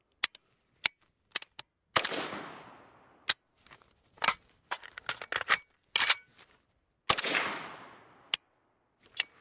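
A Kalashnikov rifle fires sharp single reports, with dry metallic clicks and rattling handling noises of a strip magazine reload between shots, loud and nearby with quiet gaps.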